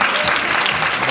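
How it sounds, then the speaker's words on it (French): An audience at a beauty awards evening applauds brand nominees, a short, loud, continuous round of clapping with faint crowd murmur beneath. "Vous pouvez applaudir les marques."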